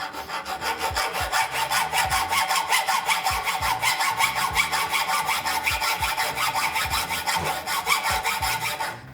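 A homemade 3D-printed plastic saw cuts into wood in quick, steady back-and-forth rasping strokes, close and loud, running continuously without any voices.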